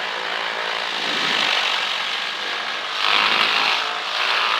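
A 1959 Cessna 310C twin piston engine runs at power during a propeller check, a loud steady droning roar with a swell in pitch and volume partway through, heard from inside the cabin.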